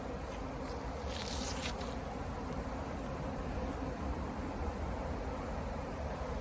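Honey bees buzzing steadily around a hive outdoors, a dense continuous drone from many insects, near and fairly faint, with no talk.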